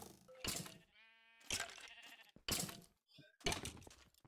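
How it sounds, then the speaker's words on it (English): Sheep in the Minecraft video game bleat in several short separate calls, spaced about a second apart, crisp and close with quiet gaps between them. "Rage has a little sheep over here"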